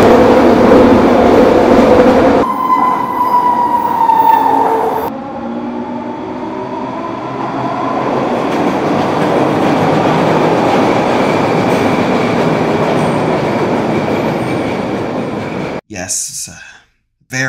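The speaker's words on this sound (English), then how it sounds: "especially when the wheels constantly grind on the rails." A Mark 1 SkyTrain rumbles loudly nearby, its wheels squealing and grinding on the rails in rising and falling tones, with a few sharp clunks near the end.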